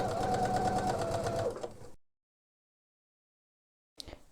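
A sewing machine stitching fabric along a topstitching line, a fast even whirring run for about a second and a half that slows and stops, followed by silence and a brief click.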